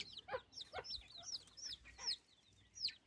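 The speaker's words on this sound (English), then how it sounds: "my birds are looking to fill up their crop before they go to bed" Backyard chickens clucking softly while feeding before bed, a series of short, faint chirpy clucks from several birds close by, with brief quiet gaps.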